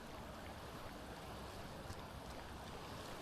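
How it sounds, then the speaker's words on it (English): Orange-tinted waves from an algal bloom breaking on a beach in Wales during a heat wave, a faint, steady surf wash with no voices. "A heat wave in Wales triggered an algal bloom, which caused these orange waves on the beach."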